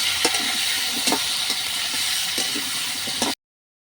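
Potato pieces frying in a pan after whole spices, a steady close hiss of hot oil with scattered spatula scrapes and stirring clicks, no talk, ending abruptly in silence.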